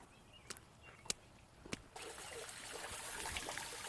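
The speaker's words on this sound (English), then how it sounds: "If you stop here, you can hear running water." Running water trickling in a quiet suburban neighborhood, a soft steady flow that swells after a few faint clicks and knocks, heard from nearby outdoors with no talking.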